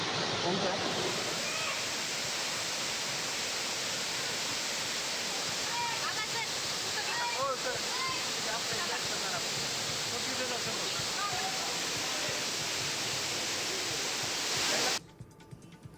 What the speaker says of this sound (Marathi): येडशीमध्ये रामलिंग धबधबा ओसंडून वाहू लागलेला आहे